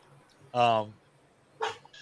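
A dog named Cujo barks twice in the background, each bark short and moderately loud with a gap between them, in an otherwise quiet room.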